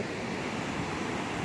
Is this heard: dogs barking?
no